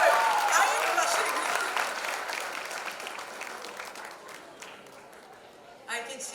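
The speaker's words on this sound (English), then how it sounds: "Can we have a huge round of cheer for the very beautiful and the very, very sweet Neha Sharma?" Audience applauding and cheering for actress Neha Sharma at a foundation launch event, a dense burst of clapping that gradually fades over several seconds, with a voice briefly rising near the end.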